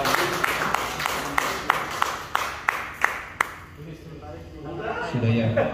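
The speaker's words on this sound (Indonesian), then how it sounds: "Tepuk tangan." Applause and scattered clapping at a church council session in Sukabumi, a burst of sharp claps in a loose rhythm that thins out after a few seconds as a room murmur and voices return.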